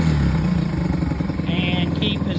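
A 1971 Honda SL70 motorcycle running after a cold start, a close, loud, steady single-cylinder putter with rapid even pulses and a brief higher whine near the end.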